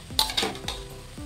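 Fried mushrooms tipped into a cooked-down masala in a kadhai for a restaurant-style mushroom masala, giving a few quick metallic clinks and scrapes of utensil against pan, close and fairly quiet, with no talking.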